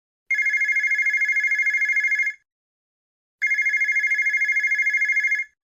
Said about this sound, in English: Suddenly, the telephone rang.